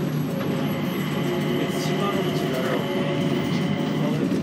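An airport skytrain hums and rumbles steadily while moving, with voices talking faintly in the background.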